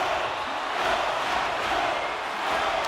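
A hockey arena crowd during a tied playoff game roars in a dense, continuous wash of cheering and shouting that holds steady and loud throughout.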